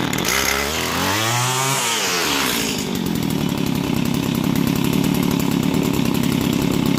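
A Stihl two-stroke chainsaw pull-started by hand, its engine whining up in pitch, dropping back, then settling into a steady loud buzzing idle, close by and alone.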